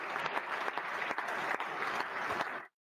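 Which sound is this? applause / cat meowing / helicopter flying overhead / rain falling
applause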